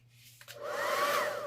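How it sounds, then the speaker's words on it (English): A hair dryer on a cool setting whirs up from quiet into a steady airy blowing hum, close by. "I may or may not use a hair dryer, which would be set on a cool setting."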